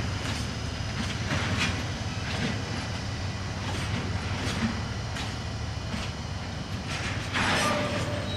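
Freight train rolling past near Inazawa station in Japan, a continuous rumble with rhythmic clickety-clack of wheels over rail joints, heard from a moderate distance throughout.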